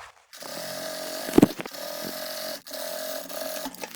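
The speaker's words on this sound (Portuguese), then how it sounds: "Eu vou passar a costura em cima dessa outra costura aqui que eu já fiz." Sewing machine stitching a seam over an earlier seam on a zipper lining for a clear-window vanity case, a steady close mechanical whir with a brief knock and a short pause midway.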